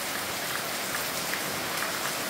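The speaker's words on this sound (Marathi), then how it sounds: "आणि जरा पाऊस पण चालू झालाय म्हणून जरा आम्ही थांबलोय" Steady rain pours down outdoors, a dense, even hiss of drops with no break and no voices.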